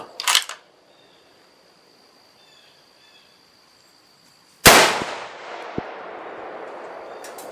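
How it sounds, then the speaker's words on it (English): A .270 Weatherby rifle with a 24-inch barrel fires 130-grain loads: a faint sharp crack at the start, then after a quiet pause one loud, close, sharp report whose broad blast decays into a long rolling tail. "We're gonna fire three of those, what did I say, 130 grainers."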